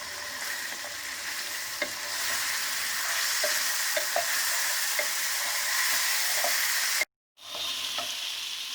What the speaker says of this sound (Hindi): थोड़ा थोड़ा दही डालकर मटन को भून लेंगे।